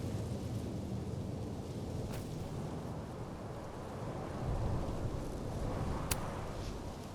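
Thunderstorm ambience from the video game Life is Strange: Double Exposure: a dense, continuous rumble of rain and thunder with a couple of sharp cracks, steady and enveloping throughout.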